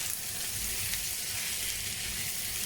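Carrots, capsicum and green chillies fry in a pan with a steady, even sizzle that holds close and constant, with no talking over it.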